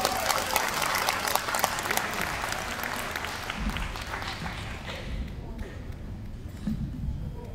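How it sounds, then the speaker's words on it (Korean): An audience at a Korean lecture claps for attendees from Gangwon, a burst of loud close applause that thins after a few seconds into scattered claps and murmuring. "강원에서 오신 분들 큰 박수 한번 부탁드립니다."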